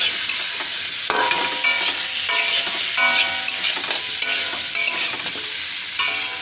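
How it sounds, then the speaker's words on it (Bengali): Chopped green chilies fry in a pan in a village kitchen cooking spinach, loud crackling sizzle broken by regular scraping strokes of a spatula stirring about once a second, with no talking. "আর এই দেখো কেটে রাখা লঙ্কাগুলো দিয়ে দিলাম। এবার আমি সুন্দর করে ভেজে নেব।"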